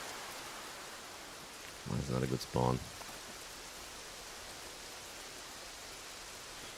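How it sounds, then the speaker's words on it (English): Steady rain washes over the scene in the game Escape From Tarkov, a constant broadband hiss throughout, briefly overlaid by someone talking. "Huge rain."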